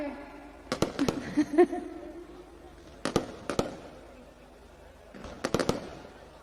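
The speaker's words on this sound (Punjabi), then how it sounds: "ਹਰ ਸਾਲ ਹੀ ਮੇਲੇ ਤੇ ਚਲਾਇਆ ਕਰੂੰਗਾ ਇਦਾਂ ਦੇ ਪਟਾਕੇ" Fireworks at a fair burst in three quick clusters of sharp cracks and pops, separated by short pauses, with a low murmur of voices underneath.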